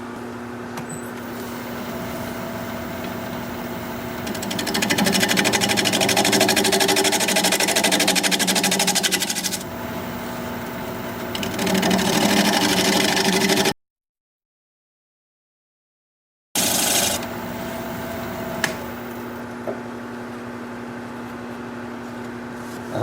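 A wood lathe hums and whines steadily while a tool cuts a tenon into the bottom of a turned bowl full of holes. The hum is loud and continuous, breaks into a brief silence partway through, then resumes more quietly.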